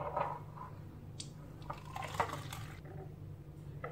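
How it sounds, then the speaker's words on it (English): Strained parsley-lemon juice trickles and drips into a cup, faint liquid splashes over a low steady hum with no speech. "After getting rid of all the juice, then we can pour it into our cup."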